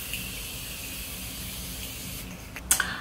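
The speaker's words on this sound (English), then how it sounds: "I'm just gonna do some setting spray" Makeup setting spray gives one short, sharp hissing burst near the end, close to the mic, after a long stretch of steady low room noise.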